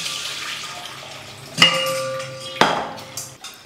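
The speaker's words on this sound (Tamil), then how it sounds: "தண்ணி நிறையா இருக்குது, தண்ணி கொஞ்சம் கம்மி பண்ணிக்கிறேன்" Excess soaking water poured off soaked chana dal in a pressure cooker, a soft continuous trickle broken by two sharp metallic clinks of the cooker and lid, with no talking.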